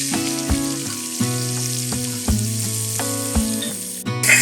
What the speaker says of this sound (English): We're going to add a mirepoix, which is 2 parts onion, 1 part carrot and celery.